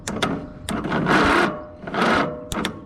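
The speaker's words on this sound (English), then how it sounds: "I think that's the starter that doesn't sound the healthiest" A Troy-Bilt engine being cranked by its starter, which is in questionable condition, grinds in several surges of mechanical whirring of roughly half a second each, close and fairly loud, with no talking.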